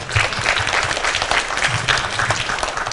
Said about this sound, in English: both presenters deserve to get a big applause from the audience